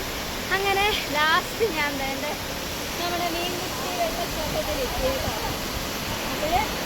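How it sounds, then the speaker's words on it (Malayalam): Meenmutty waterfall sends a constant broad roar of rushing water, steady and enveloping, while someone talks over it. "മീൻമുട്ടി വെള്ളച്ചാട്ടം എന്ന് പറയുന്നത്"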